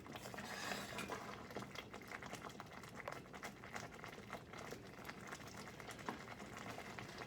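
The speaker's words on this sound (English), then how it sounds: "I'm sure you can hear that it's kind of boiling a little bit" Thick homemade refried beans bubble in a pot, a dense stream of soft plops and pattering pops continuing evenly throughout, close and fairly quiet with no voices.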